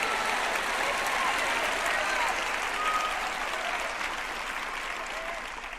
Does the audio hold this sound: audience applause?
yes